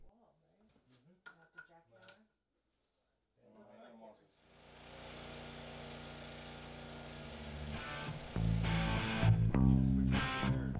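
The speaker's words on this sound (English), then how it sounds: "The drill procedure can commence, drilling along the established drill path." A hydraulic core drill starts up and runs steadily as it bores through a basement wall, a constant mechanical hum that grows louder and rougher near the end, after a few seconds of voices and quiet.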